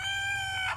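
A short, sustained rooster crow rings out close and loud, a single drawn-out tonal call under a second long.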